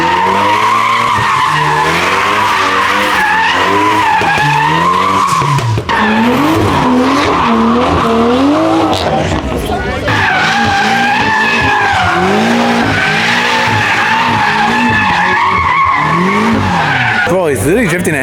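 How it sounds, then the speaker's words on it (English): A BMW M5 CS drifts at a car meet takeover, tires screeching loudly and continuously in wavering squeals over the engine roar, close by, with excited crowd voices beneath. "Bro, he's literally drifting an M5CS."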